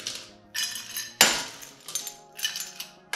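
Ice cubes clink and rattle against a cocktail glass being chilled, several bright close clinks with one louder knock in the middle, then lighter taps as the ice settles.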